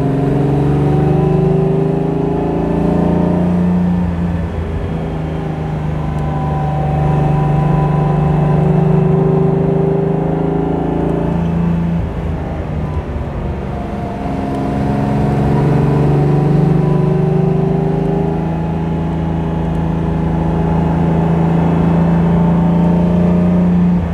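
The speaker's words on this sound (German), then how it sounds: "Drehen wir nochmal über 4000 Umdrehungen, dass man mal diesen Sound hört" A 1959 Mercedes 300 SL Roadster with drum brakes, heard close as its engine revs past 4000 rpm, rising and falling in long swells of loud, continuous engine roar with no talk.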